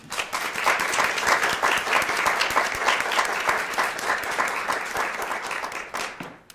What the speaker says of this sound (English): Let's give everyone a round of applause again.